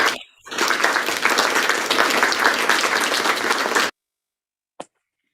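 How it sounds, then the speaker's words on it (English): A burst of thick, even audience applause during a start-up opportunity webinar runs for a few seconds and then cuts off abruptly into silence, followed by one faint click. "can we again have a big round of applause for them?"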